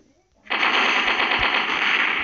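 Rapid, continuous automatic gunfire from the Mini Militia mobile game starts abruptly after a brief quiet moment and stays loud and dense.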